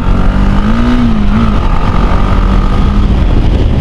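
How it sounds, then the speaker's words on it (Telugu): A Bajaj Dominar 400 motorcycle with a barrel exhaust revs loudly close by, its throaty exhaust rising and falling in pitch as the throttle is worked. "మనము బండి స్టార్ట్ చేయగానే ఇట్లా రేస్ చేస్తున్నప్పుడు మాత్రం"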